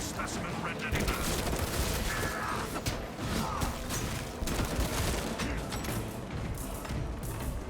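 Rapid, dense bursts of Las Fusil laser rifle fire crackle in a video game horde fight against Chaos and Tyranids, loud and continuous with heavy thumps and crashes layered in.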